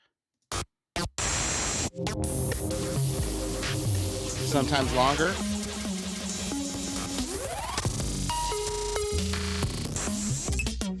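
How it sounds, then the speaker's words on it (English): Short, glitchy electronic tones made with high-feedback delay in Ableton Live stutter and repeat over a dense wash of static noise, with pitched blips and a sweeping rise near the end; a brief spoken phrase early. "we're basically getting these really, really small pitch tones"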